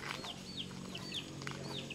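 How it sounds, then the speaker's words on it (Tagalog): Chickens cluck softly on a farm in Baras, Rizal, with short chirpy calls repeating every half second or so over a steady low hum, fairly distant and moderate in level. "May mga manok ditong alaga"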